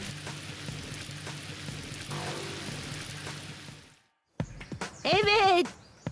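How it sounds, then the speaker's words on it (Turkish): Heavy rain hisses in a steady wash for about four seconds, then cuts off, followed by scattered clatter and a sharp chirping whistle-like sound near the end. "O ses de neydi? Sanki sağanak yağmur."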